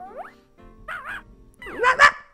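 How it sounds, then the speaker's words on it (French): Peps, a cartoon dog in the video game Pouce-Pouce, gives three short, yappy, whimpering barks spaced apart, the last loudest, crisp and close. "Oh, le chien ! Peps !"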